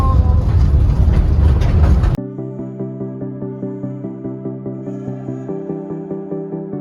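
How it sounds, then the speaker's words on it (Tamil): A toy train runs with a steady, fast clicking rhythm and a bright whirring motor tone; a loud rushing noise precedes it, then cuts off abruptly. "இந்த ட்ரெயின்ல தான் நம்ம போறோம்."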